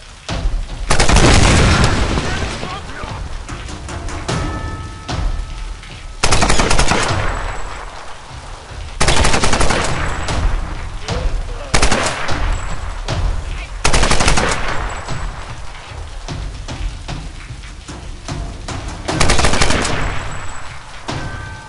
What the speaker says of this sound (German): Schieße ich eigentlich nicht ordentlich mit dem Granatwerfer oder warum fliegt sie auch immer nach hinten?